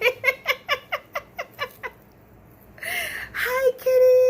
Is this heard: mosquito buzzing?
no